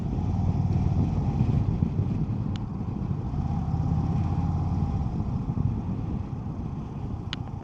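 An Indian Sport Chief RT motorcycle being ridden on a demo ride, a steady low engine rumble with wind buffeting across the microphone, continuous and close, no talking.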